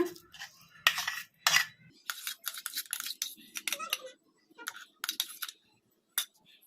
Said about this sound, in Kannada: ಬದನೆಕಾಯಿ ಹಸಿಮೆಣ್ಸಿನ್ಕಾಯಿ ಪೇಸ್ಟ್ ಈಗ ಮೊಸರಿಗೆ ಹಾಕಿ ಕಲಿಸ್ಕೊಂಬಿಡೋಣ